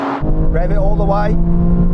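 Aston Martin engine revving hard at a drag race, a loud, close, sustained high-rev roar that rises and holds, with voices over it.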